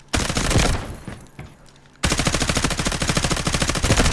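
A suppressed M4A1 rifle in the shooter game Delta Force fires a short burst, then after a pause lets off a long, rapid, evenly spaced stream of muffled automatic shots, loud and close.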